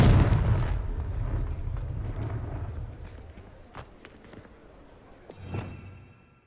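The Confringo blast spell in Hogwarts Legacy, a heavy booming burst at the start that rumbles and fades, followed by a few scattered impacts and a smaller second blast near the end.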